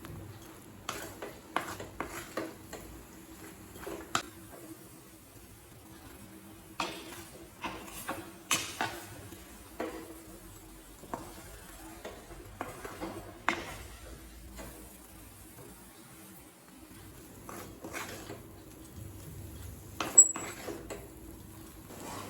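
Egg bread masala being stirred in a pan, heard as intermittent scrapes and clinks of a spatula against metal, separated by quiet stretches with a faint background sizzle.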